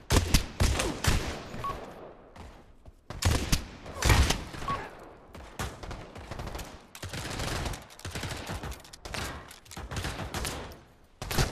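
Gunfire in the VR video game Pavlov, rapid bursts of automatic fire and repeated shots in clusters separated by short pauses, loud and close throughout.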